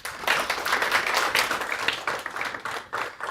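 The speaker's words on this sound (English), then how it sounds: "Let's give them a big round of applause." Audience applause at a board of education meeting, a steady wash of clapping from many hands filling the room at moderate level, with no talking over it.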